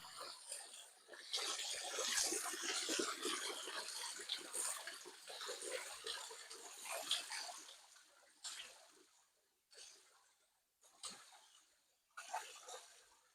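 Hayta Bey waterfall at Pamukkale, a continuous rushing splash of falling water heard close up, steady for several seconds before breaking into short surges and pauses.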